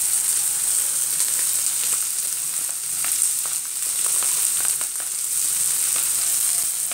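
Onion sizzles steadily in a hot pan with shrimp and ginger, a close, continuous crackling fry with small pops and the occasional stir.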